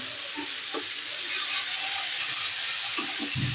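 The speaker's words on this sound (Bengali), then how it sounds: "দেখতেই পাচ্ছেন ভালো করে কষাচ্ছি।" Spice paste sautés in mustard oil in a pan, a steady close sizzle with a few soft stirring scrapes and thuds, loudest toward the end.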